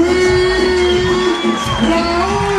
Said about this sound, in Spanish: fuerte aplauso a la rey de la cámara, de Boricua